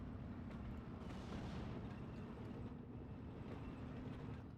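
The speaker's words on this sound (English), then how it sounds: "I'm gonna wait for the artillery to shoot here." Artillery fire in Steel Division II, a low rumbling barrage of overlapping booms under continuous battlefield noise, moderately distant and without speech.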